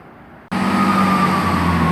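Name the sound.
train departing Bristol Temple Meads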